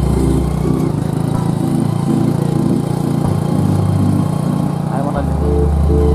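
A motorcycle engine runs steadily close by with a low, continuous rumble and rhythmic pulsing, recorded while riding, with a voice talking faintly over it.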